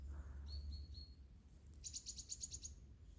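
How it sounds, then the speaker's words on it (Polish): Birds sing in a forest during a mushroom-picking walk, giving a few quiet, quick high chirps followed by a short rapid trill, all faint over a low rumble of background noise. "Ptaki śpiewają bardzo przyjemnie."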